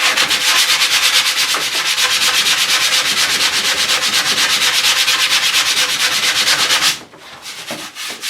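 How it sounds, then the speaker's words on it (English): The back of a taxidermy wall pedestal is sanded flat by hand in fast, steady strokes, a loud, continuous rasping rub that stops abruptly near the end, followed by faint handling sounds. "That has to be sanded down nice and flat. I'm going to do that now."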